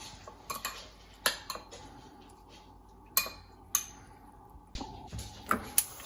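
Chicken marinated with salt is mixed in a bowl, giving scattered light clinks and taps of a utensil against dishware amid quiet pauses.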